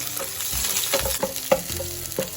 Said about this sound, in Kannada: ಇದನ್ನು ನೀಟಾಗಿ ಫ್ರೈ ಮಾಡ್ಕೋಬೇಕು.